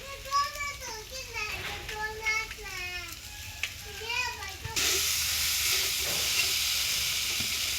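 Noodles hit a hot pan and fry with a loud steady sizzle while being stirred. Children's voices are heard talking over the cooking before the sizzling takes over.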